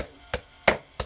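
Hand-chopping bones with a cleaver on a wooden board while preparing a Vietnamese salted dish: three sharp, close chops spaced about a third of a second apart.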